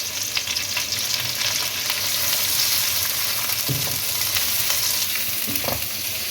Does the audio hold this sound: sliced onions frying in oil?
yes